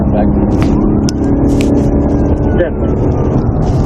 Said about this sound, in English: Also be advised, I've got my siren back.